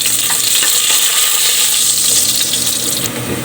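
Unpeeled ginger sizzling in a hot pan for chicken adobo, a loud, steady, close frying hiss with light crackling throughout.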